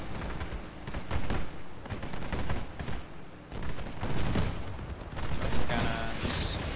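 Cannons boom repeatedly in a video game battle, a dense run of heavy blasts and bursts spread across the whole stretch with no gap in the noise.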